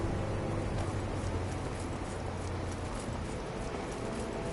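Hooves of a horse clip-clop in a steady, even rhythm inside a fantasy video game, a moderately loud, continuous gait with no voices over it.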